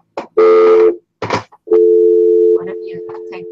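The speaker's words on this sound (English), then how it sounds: "Leave it on busy. There. It'll probably beep for a while." Telephone left off the hook in an interview room, giving a steady tonal beeping of a busy or off-hook signal, loud and close, in sustained bursts with brief speech-like fragments between.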